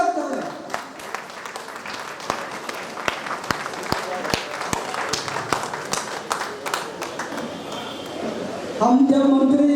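Audience at a Hindi Diwas function welcoming a state government minister with claps: scattered, individual sharp hand claps, roughly a dozen in uneven rhythm over a murmur of voices, ending with a louder sustained tone.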